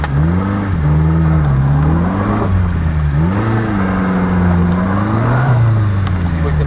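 A 1991 Subaru Sambar 4WD kei truck engine pulls in first gear with extra low and the diff lock engaged, a steady close whine that rises and dips as the revs change over several seconds.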